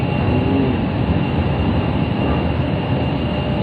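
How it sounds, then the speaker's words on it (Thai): Steady, loud rumble of a Kunming Metro Line 6 subway train in motion from Changshui Airport, with constant low roar and a faint high whine running throughout. "ตอนนี้เรานั่งรถไฟสายหกจากสนามบินคุณหมิงมา"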